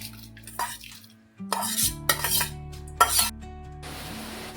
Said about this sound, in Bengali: সেই চালটা পুরোটা এখানে অ্যাড করে দেবো